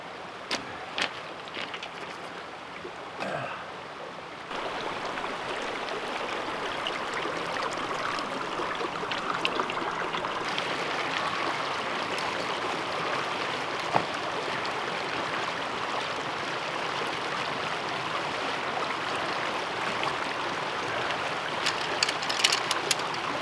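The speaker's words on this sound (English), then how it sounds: "So we are right next to the Carson River here." The Carson River, running low among many boulders, rushes steadily over rocks and small drops, a continuous broadband wash that stays fairly loud and even throughout with no voices.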